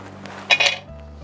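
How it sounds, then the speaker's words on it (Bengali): A metal wok clinks against a stove as it is set down in a home kitchen while preparing a Bengali fish dish, two quick close knocks over a low hum. "তাহলে কড়াইটা বসিয়ে দে।"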